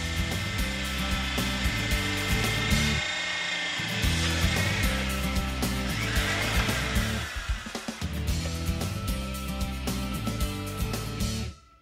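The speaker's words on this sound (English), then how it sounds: "Drilling with the Trix 160 rig." A Trix 160 core drilling rig grinds and whines continuously at close range, its motor pitch wavering, with a short dip in intensity before it resumes.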